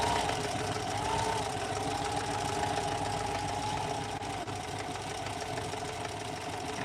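A sewing machine stitches a zigzag in a continuous, steady mechanical whir with a faint even rhythm, close and alone for about seven seconds.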